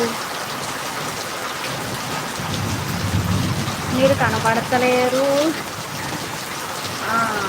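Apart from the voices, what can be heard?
heavy rain falling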